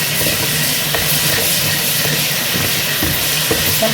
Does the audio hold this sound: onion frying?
yes